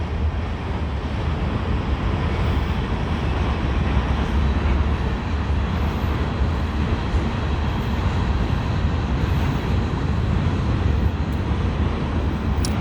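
A CSX freight train rolls past with a continuous broad rumble and clatter that holds steady throughout, moderately loud, with no voices over it.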